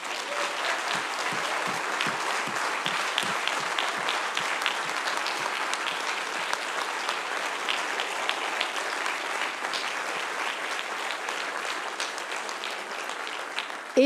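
Sustained audience applause fills an award ceremony hall, a dense steady patter of many hands clapping at even loudness with no voices, swelling briefly near the end.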